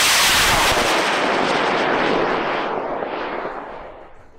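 A 50-pound V2 model rocket lifts off on a CTI M1675 M motor with a loud, broad roaring rush that slowly fades as it climbs away.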